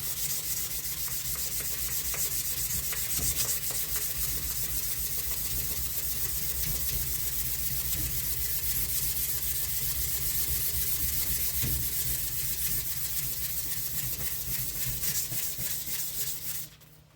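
Metal on a firearm is block sanded with continuous rapid back-and-forth rubbing strokes, a close, loud, gritty hiss that holds steady for the whole stretch before stopping at the end.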